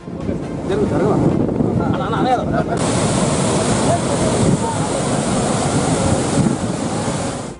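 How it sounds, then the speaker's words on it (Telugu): Flood water rushing out through two opened gates of the Nagarjuna Sagar Dam, a loud continuous roar with heavy wind buffeting the microphone throughout. "రెండు గేట్లను ఐదు అడుగుల మేర ఎత్తి నీటిని దిగువకు వదిలారు"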